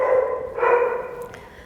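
Dogs bark nearby during an outdoor horse-handling session, a sustained, moderately loud burst that swells in the middle and fades toward the end, with no talking.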